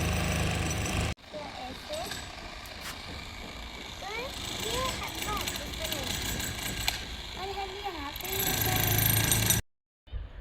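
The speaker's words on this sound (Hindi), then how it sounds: "हमारे मकान के आगे पीछे हर जगह कंस्ट्रक्शन का काम चल रहा है। इतनी ज़्यादा नॉइस हो रही है" Construction and demolition work goes on around a house: a steady rattling, hammering din in the background, fairly distant but constant for about ten seconds, with someone talking over it.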